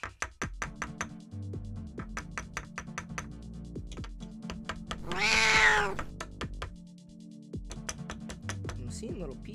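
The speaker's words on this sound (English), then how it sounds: "And there's a cat." A cat lets out one drawn-out meow in the middle, close by, amid quick tapping and clicking sounds and a low background hum.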